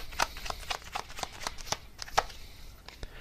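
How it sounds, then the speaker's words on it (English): A deck of tarot cards being shuffled close up, with a quick series of crisp riffling flicks and taps in an uneven rhythm, alone without speech. "So let me just get one more card here for any extra info."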